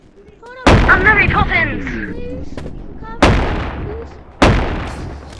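Three loud, close shotgun blasts from the video game Animal Company, each a sharp boom with a decaying tail. A voice talks over the first one.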